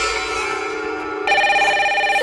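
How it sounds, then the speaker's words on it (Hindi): A telephone rings in a comedy episode, a steady electronic ringtone that sustains throughout and grows louder and brighter partway through, with no talking over it. "सनी का फोन।"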